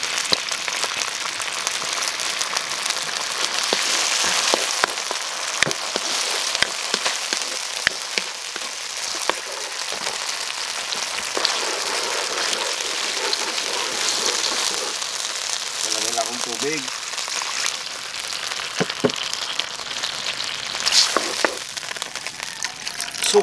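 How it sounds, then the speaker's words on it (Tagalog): Sauce is poured into a pan of softened onions while cooking lechon paksiw, a sustained bubbling sizzle with scattered crackles, close and fairly loud, with a brief stretch of voice partway through. "Bubuhos natin ang all around sarsa."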